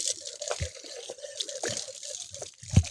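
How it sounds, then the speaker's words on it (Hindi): Water dripping from a tap in a village in India, a few irregular drops landing amid faint background noise, with one louder splash near the end. "गांव में पानी आ रहा है, टपक रहा, यानी नल चालू होगा"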